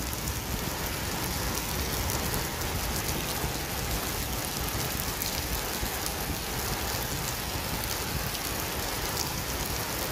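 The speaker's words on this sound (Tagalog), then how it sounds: "habang kami nagpapatila ng ulan" Steady, dense rain falls outdoors during a tilapia fishing outing, a continuous even hiss of drops with no breaks and no talk.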